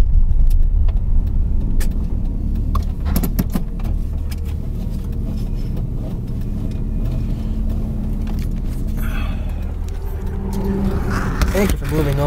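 A car passes on a road, its steady engine and tyre rumble filling the scene from start to finish, with a brief mechanical whir building near the end.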